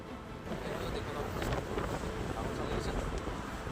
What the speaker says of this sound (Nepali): यो समुद्रतिर साइडतिर कस्तो हावा चल्ने है